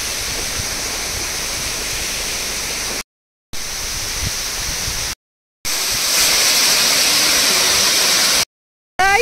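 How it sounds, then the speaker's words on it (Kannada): Jarimane waterfall near Horanadu roars as a dense, steady rush of falling water, loud and close, in several segments separated by brief cuts of silence. No one speaks. "Guys, ಇದು ಜರಿಮನೆ ಫಾಲ್ಸ್."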